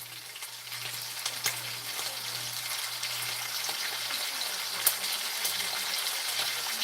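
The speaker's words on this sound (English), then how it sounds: "got some steaks going on. Just about done with those." Steaks sizzling in a pan on a live cooking stream, a continuous close, even hiss with scattered small pops and a low steady hum underneath.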